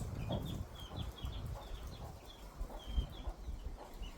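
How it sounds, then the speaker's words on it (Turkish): Chickens and roosters cluck repeatedly at a moderate distance, with short high calls recurring in a steady rhythm over low background noise. "Bence ikisi horoz."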